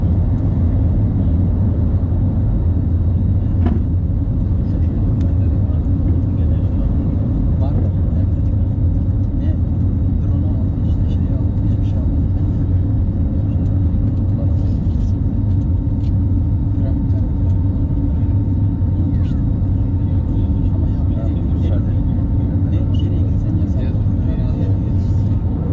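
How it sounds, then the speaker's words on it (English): Steady, loud broadband engine roar and rumble inside the cabin of an Airbus A320neo in cruise on a roughly hour-and-a-half flight from Antalya to Sphinx International, continuous throughout with a faint tonal hum. "Today's flight is on an Airbus A320neo between Antalya and Sphinx International."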